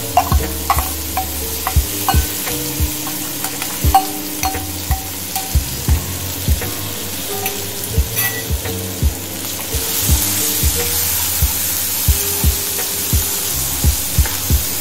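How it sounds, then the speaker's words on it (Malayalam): Cooked chana dal frying with asafoetida in a pan, a steady close sizzle broken by repeated sharp scrapes and knocks of a stirring spoon, with no talking. "കായത്തിൻ്റെ നല്ല മൂത്ത മണം വരുമ്പോൾ നമ്മൾ വേവിച്ച് വെച്ചിട്ടുള്ള ഈ കടലപ്പരിപ്പ് ഇട്ട് കൊടുക്കുക"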